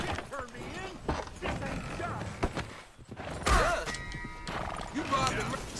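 Horses neigh and hooves clop in a Red Dead video game, with a whinny and creaking, clattering mechanisms mixed under frequent game speech and a loud crash midway.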